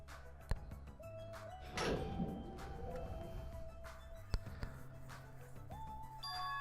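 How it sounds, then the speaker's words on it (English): A door in Danganronpa 2 Goodbye Despair opens with a heavy thunk and a sliding rush. Sparse game tones play before and after, with a couple of sharp knocks. "The door opened."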